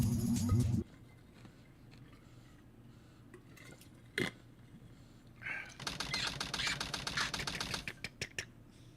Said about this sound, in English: I always like that little like typing sound.